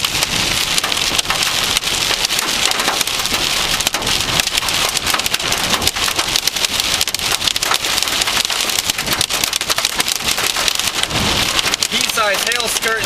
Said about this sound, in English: Pea-sized hail skirting the road